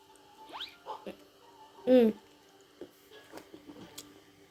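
A dog whimpers in a stick-figure prison-escape video game, a short high whine standing out once amid quiet, scattered game effects.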